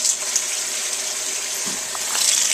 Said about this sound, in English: you're going to need a strainer to rinse the beans off in